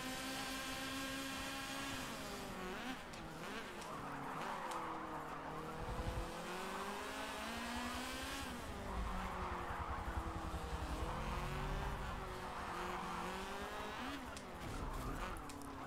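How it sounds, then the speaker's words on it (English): Several high-revving rotary-engine race cars in a racing video game wail continuously with rising and falling pitch, tires squealing as cars corner and pass, loud and close. "I'm hearing a lot of rotary engines,"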